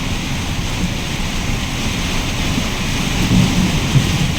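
Heavy rain pours down on a road in Odisha around a truck, a dense steady roar with deep thunder-like rumbling underneath, loud and unbroken, with no voices.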